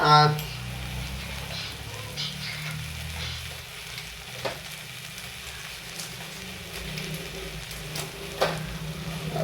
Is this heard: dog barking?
no